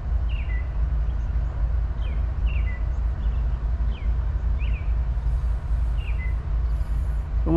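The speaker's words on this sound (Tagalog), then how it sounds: "Sarap pakinggan ang huni ng ibon" Birds chirp in short repeated calls from trees outside on a Saturday morning in Canada, fairly faint over a constant low rumble of background noise.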